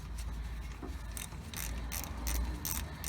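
A 15mm wrench tightens the brake caliper bolts on a Jeep Wrangler Unlimited, giving a quiet run of quick ratcheting clicks in short uneven bursts over a low background hum.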